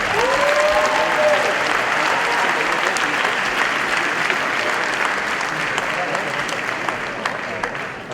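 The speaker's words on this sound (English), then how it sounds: "please, one more loud round of applause" Dense, loud applause from the audience at a 2017 community Bat Mitzvah ceremony, a thick continuous roar of clapping hands that holds steady and eases slightly at the end.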